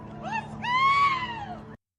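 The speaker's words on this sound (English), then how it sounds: "Like people just screaming." A woman screams in long wavering cries that rise and fall, heard as playback from a recorded news clip of a knife attack, fairly loud over a low background hum before the sound cuts off abruptly.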